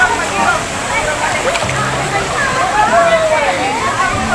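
Free-flowing spring water at a bathing spot in Irosin rushes and sloshes continuously close by, with people's voices chattering over it.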